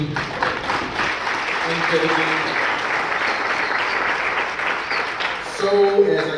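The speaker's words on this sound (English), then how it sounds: "Can we give another round of applause for the Cons team?" An audience at a veterans expo gives the Cons team another round of applause, steady clapping filling the room, with a voice speaking over it near the end.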